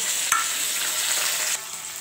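Okra and potatoes frying in a pan for a vegetarian chachchari, a steady close sizzle with a brief clatter near the start and a slight drop in level toward the end.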